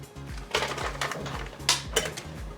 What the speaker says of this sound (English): we put them in our microwave safe bowl.